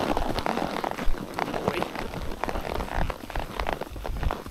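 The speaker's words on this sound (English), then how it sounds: "A little bit of rain didn't hurt anyone." Rain falling steadily outdoors during a horseback ride, a dense patter of drops striking surfaces close to the microphone throughout, with no talk.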